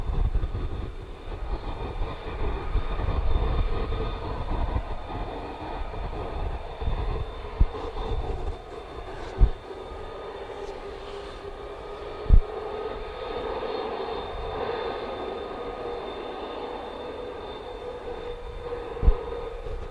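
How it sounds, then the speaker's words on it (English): F-15 fighter jets idle somewhere off in the distance, a steady low engine roar and hum under outdoor air, broken by a few sharp clicks or knocks. "Graham could hear F-15 running down there, and I'm sure I heard them start up as well"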